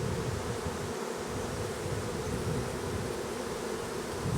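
Dense, steady buzzing of many honey bees clustered around a hive, including a bee beard hanging at the entrance in winter, loud and close, continuous without pause.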